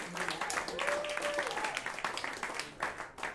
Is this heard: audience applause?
yes